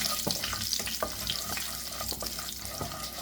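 Urad dal and curry leaves frying in oil for onion thokku while being stirred, a dense crackling sizzle with repeated scraping strokes of the spoon against the pan.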